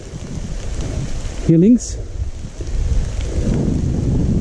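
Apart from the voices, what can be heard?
heavy rain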